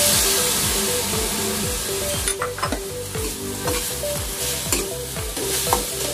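Ampalaya (bitter gourd) sizzles loudly in a frying pan, with steady frying hiss and repeated scraping stirs of a utensil against the pan, close up, over quiet music.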